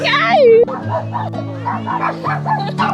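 Small dogs yip, whimper and bark close by in rapid bursts, mixed with people talking over them.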